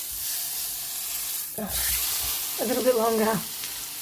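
A thick-cut porterhouse steak fries in a pan, giving a constant close sizzle, while a person speaks briefly twice over it.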